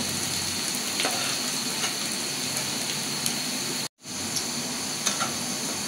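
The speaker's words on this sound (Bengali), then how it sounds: "পেঁয়াজটা আমি লাল লাল করে বেরেস্তার মতো করে ভাজি করে নেব" Onions frying in oil in a pot already seasoned with whole spices like cardamom, browning for a beef curry; a steady, loud, close sizzle continues throughout, briefly cut off for an instant, with no one talking.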